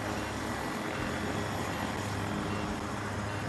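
Helicopter flying in Battlefield 2042, a steady loud rotor and engine drone that fills the whole clip without a break, with no talk over it.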